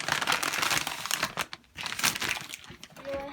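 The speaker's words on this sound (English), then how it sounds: "I'm going to be putting it into a plastic bag." Plastic bag crinkling and rustling as dough for Jamaican beef patties is wrapped in it, close and fairly loud, in continuous bursts with a brief pause midway.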